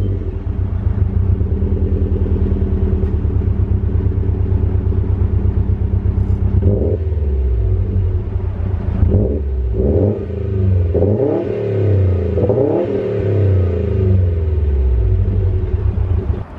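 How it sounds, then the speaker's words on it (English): A 2021 Subaru STI with an aftermarket axle back exhaust idles with a deep burbling rumble, then revs repeatedly in sharp rising bursts, loud and close with no talking. "I also have a nameless axle back exhaust."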